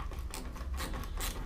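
A nut is tightened on the battery isolator shield of a Caterham, giving close mechanical clicking and ratcheting in a steady repeated rhythm over low background noise.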